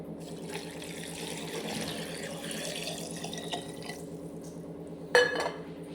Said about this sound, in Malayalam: ഇനി തിളപ്പിച്ചാറിയ വെള്ളം ഒഴിക്കാം